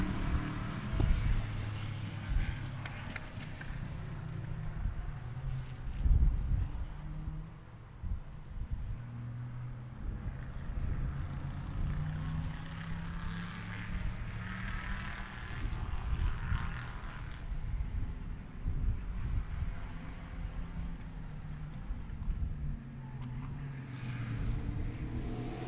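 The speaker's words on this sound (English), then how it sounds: "It sounds like you guys can really hear the race cars." Race cars circuit Sebring racetrack during Turkey Trot event coverage, a continuous droning engine roar at a steady distance with wind buffeting, no speech over it.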